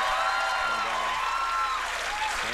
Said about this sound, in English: That was real applause for Pierre, wasn't it?